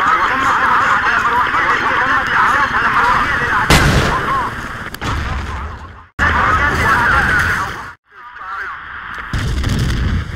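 Loud bursts of gunfire and blasts, including grenade explosions, come from a Battlefield 2 battle and repeat in choppy clusters, with sudden brief silences between them.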